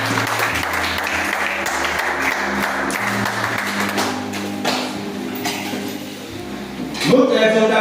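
Church congregation applauding, steady clapping sustained throughout with musical tones underneath, swelling slightly near the end.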